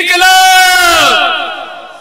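A large crowd at a farmers' protest rally roars a slogan in unison, a loud, close, sustained shout that swells and then fades away over about two seconds.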